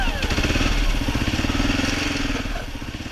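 A loaded adventure motorcycle on the Trans-America Trail creeps past a boulder on a rough track, its engine a close, steady low chugging throttle that holds through the whole moment without a break.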